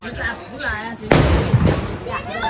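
A sharp firecracker bang bursts out amid chatter during Diwali, followed by a crackling tail, with people talking before and after.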